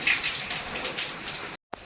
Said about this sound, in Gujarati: બહાર મસ્ત મજાનો વરસાદ ચાલુ છે